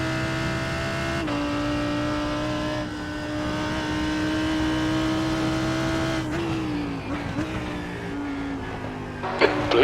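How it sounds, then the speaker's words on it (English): Race cars in an IMSA Hagerty Racing Series sim at Canadian Tire Motorsport Park, a steady engine drone with a sustained high whine as faster LMP2 cars approach and pass, ending in shifting pitches and sharp revving. "Faster cars approaching."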